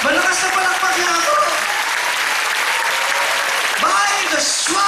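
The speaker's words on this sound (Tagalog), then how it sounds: "Malakas na palakpak niya ako." A church congregation applauds loudly in sustained, dense clapping that fills the room without letup, while a pastor's voice carries over the noise.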